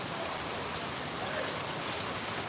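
Hail drumming on a tin roof during a storm in Barnsdall, Oklahoma, a dense, even patter of many small impacts that continues steadily and fairly quietly throughout.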